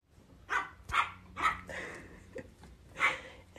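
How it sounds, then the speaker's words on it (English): A happy dog barks four times in a lively, evenly spaced series, loud and close, with a softer yip in between and no talk over it. "the happy dog"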